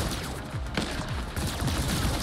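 Rapid gunfire bursts in The Ascent video game, dense overlapping shots crackling and booming in quick succession over a couple of seconds, with no speech.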